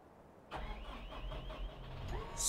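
A Merlo P41.7 Turbofarmer telehandler engine in Farming Simulator 15 cranks and catches, settling into a low, steady idle hum after a brief starter whir, close and unaccompanied by speech.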